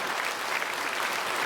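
Church congregation at a Sunday service clapping to welcome newly registered members, a brief, steady burst of dense applause filling the room.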